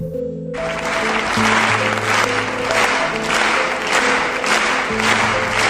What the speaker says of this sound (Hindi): लेकिन कुछ ही देर के बाद सारे लोग एक साथ ताली बजाने लगते हैं।